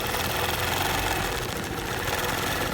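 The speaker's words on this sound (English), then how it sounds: "The way it can stitch through heavy seams and leather." A Nova longarm quilting machine stitches through heavy denim seams on a quilting frame, giving a steady, loud mechanical whir with a fast rapid needle rhythm that runs unbroken throughout.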